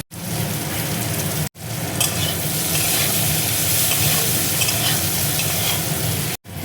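Bitter gourd bharta fries with spices such as turmeric, garlic and salt under a loud, dense, continuous sizzle, with stirring scrapes throughout and two brief cut-outs.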